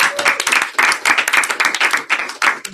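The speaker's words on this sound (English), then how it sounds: "Let's give Soleil a round of applause." Applause from an audience at a general session, dense and loud throughout, a steady wash of many hands clapping with no voices heard.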